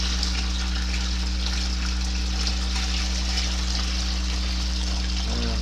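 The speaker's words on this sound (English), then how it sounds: "as I do it, I'm rinsing the plate" Water steadily gushing from a tap to rinse the build plate of a resin 3D printer, a constant hissing flow over a low mechanical hum, close and loud without pause.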